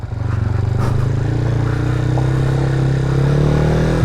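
Motorcycle fitted with a new SSS 14-43 428 chain and sprocket set, its engine droning loud and close with a steady low hum that rises gradually in pitch as it rides on a rough road.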